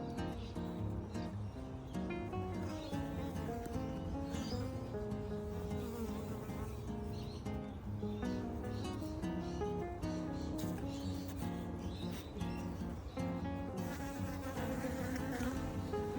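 Honeybees buzz steadily around an Autoflow beehive, a dense, continuous swarm drone with individual bees whirring close past, droning without pause and without talk.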